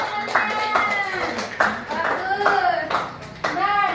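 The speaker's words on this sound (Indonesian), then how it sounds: "silakan dulu kasih tepuk tangan kepada teman-teman" Students in a classroom clap for their classmates, a lively burst of hand claps in uneven waves that start, stop and restart, with voices mixed in.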